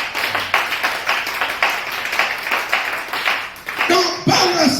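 A church congregation claps together in acclaim of the Lord, a steady run of rhythmic hand claps under a busy, reverberant hall, with voices mixed in and a brief sung or called phrase near the end.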